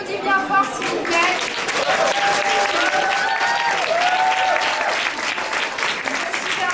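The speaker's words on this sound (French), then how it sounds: "on les applaudit bien fort s'il vous plaît" An audience at the Nyx Face Awards France 2016 final in Paris claps loudly for the six finalists, a steady burst of applause with a few voices and whistles mixed in.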